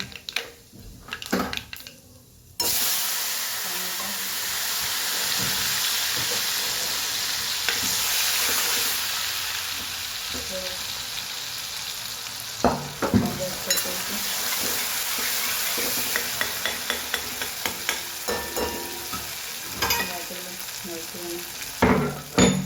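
Cumin seeds and asafoetida crackle in hot oil, a loud hissing sizzle that bursts in suddenly after a few clinks and keeps going, with light utensil taps and stirring toward the end.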